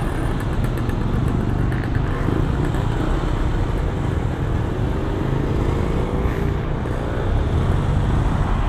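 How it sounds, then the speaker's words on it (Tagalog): A small motor fitted to a converted mountain bike drones continuously and loudly, a buzzing two-stroke whine that holds steady without pause and no talking over it. "Bisikleta nilagyan ng motor"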